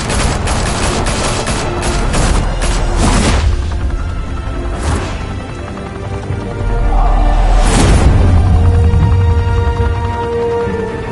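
Heavy gunfire in the game Batman: The Telltale Series, loud rapid bursts of shots at the start followed by scattered blasts and whooshes, with a couple of sharp booms later, no voices.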